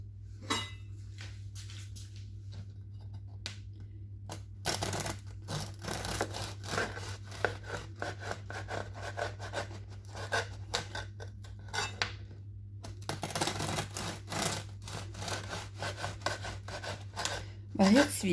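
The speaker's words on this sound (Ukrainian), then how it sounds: "із багетом будуть ці бутербродики, і нарізаю його на 4 частинки" Knife sawing through a crusty baguette several times, a rough rasping scrape with crumbly crackle, close by, under a steady low hum.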